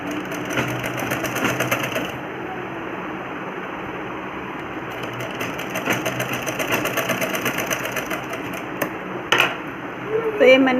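An electric sewing machine stitches trouser fabric in rapid, rattling bursts, with a short pause before it resumes, then gives way to a few clicks and handling sounds near the end.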